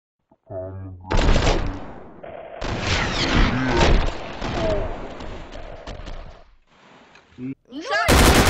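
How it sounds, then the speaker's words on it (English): Gunfire bursts in Garry's Mod, loud and repeated in rapid clusters across the clip, mixed with game sounds while people talk over it. "You started gunning down Kermit"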